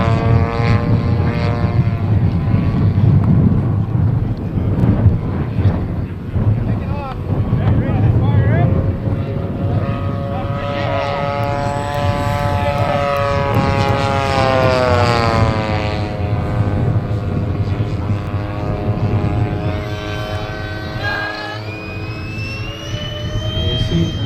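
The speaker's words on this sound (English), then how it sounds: "Royal SE-5A scout plane from World War I." Steady droning engine of a Royal Aircraft Factory SE-5A World War I scout plane passing by, its pitch rising and falling throughout, loud and continuous beneath an announcer talking.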